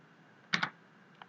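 A couple of quick clicks from a computer keyboard as the Enter key is pressed, close and crisp in a quiet room, with a fainter tap just after.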